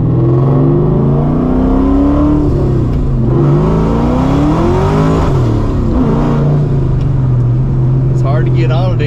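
A Linwood 1997 GT's supercharged engine with a Borla muffler revs loudly and steadily, its deep drone rising and falling through several swells, with speech heard over it.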